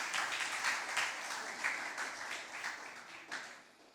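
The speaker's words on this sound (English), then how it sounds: "A round of applause for Ms." A round of applause at a speaking competition, a dense, moderately distant clatter of many hands that holds steady, then gradually fades toward the end.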